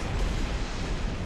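Heavy, continuous turret gunfire in the video game Halo Reach, a dense rumbling barrage of rapid bursts that fills the whole short stretch at steady loudness with no talk over it.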